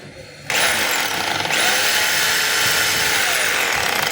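DeWalt D25033 rotary hammer running in hammer mode, starting abruptly and holding a loud, dense, steady rattling motor roar with rapid impact buzz, close and alone.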